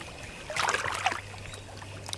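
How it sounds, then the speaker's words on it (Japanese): Soft lapping water at the shore of northern Lake Biwa, quiet and close, with a brief louder splash and slosh near the middle over a low steady background hum. "このね、水の音の中でもね、奥琵琶湖の音、極上だから。"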